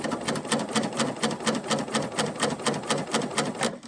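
A sewing machine stitches fabric with the presser foot clamped down, running a fast, steady, evenly pulsed whir of needle strokes close by with no talking.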